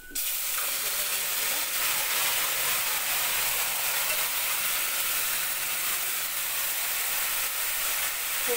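Yardlong beans dropped into hot oil in a pan let out a loud, steady sizzle and hiss that holds evenly from start to finish, close and with no talking over it.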